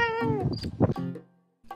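A small cat gives one drawn-out, wavering meow close up, ending in a short silence and a faint trailing sound.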